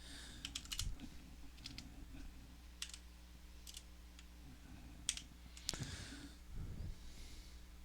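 Computer keyboard typing heard close and quiet as scattered clicks and short bursts of keystrokes, with pauses between them and a faint breathy sniff or two.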